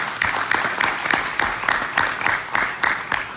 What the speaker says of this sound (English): So, round of applause on that one for sure.